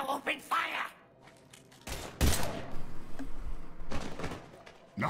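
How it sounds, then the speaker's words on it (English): Gunfire in the Mass Effect 3 video game, a couple of sharp bursts of shots that break in amid spoken dialogue and quieter gaps. "Now open fire!"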